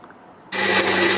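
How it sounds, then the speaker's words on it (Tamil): A mixer grinder kicks on abruptly after a brief quiet moment and runs with a loud, steady whirring roar, grinding garlic cloves, cumin and a piece of ginger. "நாலு பல் பூண்டு கொஞ்சமாக ஜீரகம் இதெல்லாம் சேர்த்து அரைச்சிக்க போகிறோம்"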